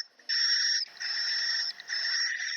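Recorded swiftlet call played back in an audio editor: three long, clear, high-pitched electronic-sounding chirping bursts separated by short gaps, loud and isolated with no talking.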